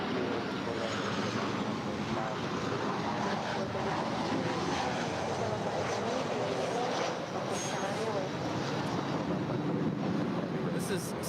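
Southwest Airlines Boeing 737-800, a five-year-old jet arriving from San Jose at LAX, gives a steady broadband roar that holds loud and continuous throughout, with faint talk in the background.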